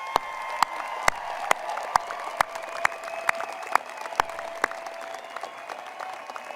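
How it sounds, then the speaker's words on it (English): Sparse applause from a small audience at a law school spring convocation, individual hand claps sounding as sharp separate cracks in a steady, slightly uneven rhythm, fairly distinct and not dense, with no talk over it. "a rousing round of applause for our graduates"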